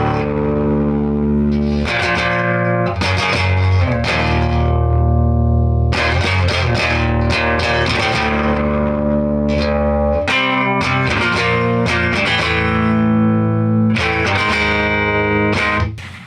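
An electric guitar through a Traynor YGA-1A tube amp turned fully up, with no reverb, plays heavily overdriven sustained distorted chords and riffs, loud and thick, with gritty saturation ringing between strums.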